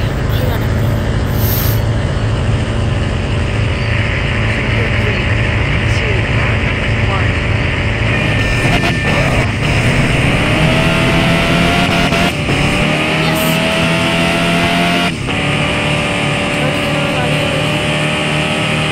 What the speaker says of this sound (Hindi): Start engine.